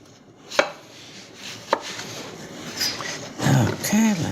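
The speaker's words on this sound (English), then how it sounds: "slicing them thin like this with the knife" Knife chops through thin zucchini slices on a board in a few sharp, separate strikes. A short voice-like murmur rises near the end.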